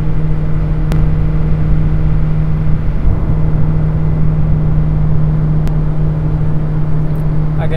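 A car engine runs steadily at highway speed around 4,600 RPM with a low droning hum, occasionally pulsing as if misfiring, while the engine burns oil.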